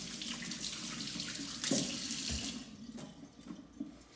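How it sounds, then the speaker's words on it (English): A kitchen tap runs while hands are rinsed under it after butchering a rabbit, a steady close splashing stream with slight shifts as the hands move, with no talking. "All right, quick wash of the hands."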